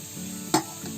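Barnyard millet flour sizzles steadily as it roasts in hot ghee, with a single sharp scrape or stir knock near the middle of the brief sound and no talking.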